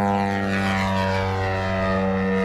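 A Hangar 9 Carbon Cub FX-3 radio-controlled plane drones overhead on its landing approach, its engine giving a steady, loud, tonal buzz that shifts slightly in pitch, with no talk.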